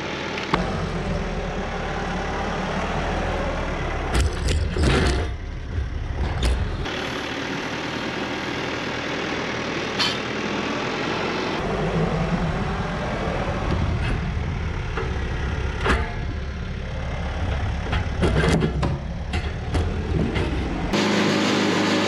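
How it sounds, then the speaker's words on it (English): A tractor hauling sugar maple logs to a sawmill drones steadily and loudly, its deep engine rumble broken by occasional clanks and rattles from the load. "Now we're gonna jump in the tractor and take the logs over to the mill."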